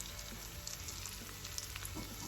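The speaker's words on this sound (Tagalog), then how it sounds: "At saka, magpiprito ako ng itlog." An egg fries in hot oil in a pan, a steady close crackling sizzle with fine popping spatters and no voices over it.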